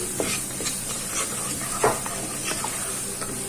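Food in a pan seasoned with turmeric being stirred over a constant sizzle, with periodic scraping strokes and a louder scrape near the middle, close and steady.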